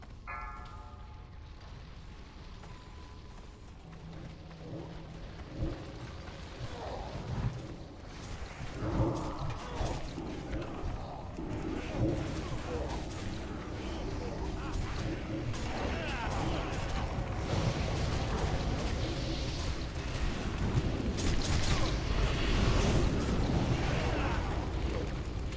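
Rumbling, crackling fire-spell impacts from a Rain of Fire effect in World of Warcraft build into a dense, continuous roar of bursts and booms during a raid fight, with faint voices underneath.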